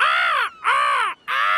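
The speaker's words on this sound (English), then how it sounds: "The cheeky seagulls are eating Grandpa's raspberries." Cartoon seagulls squawk at raspberries in a garden: three loud, harsh, nasal calls in quick succession, each about half a second, close and clear with no talk over them.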